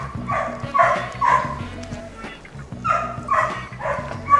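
A sheepdog working rheas on a Yorkshire farm barks in several short, bright bursts in two close clusters, with a steady low hum and faint voices underneath.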